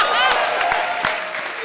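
A studio audience at a televised comedy show claps in a short, lively burst, with a voice sounding over the applause.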